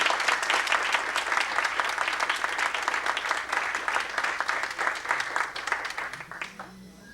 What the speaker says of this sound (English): please clap your hands for them also